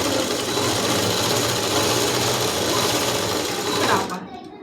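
Sewing machine running steadily while top stitching a dress, a loud continuous mechanical whir close by that stops abruptly near the end, with a voice speaking under it.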